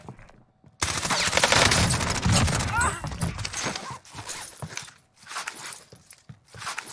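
Rapid gunfire and rocket blasts from a shooter video game, with a dense barrage near the start that breaks into shorter bursts, while a voice talks over the action.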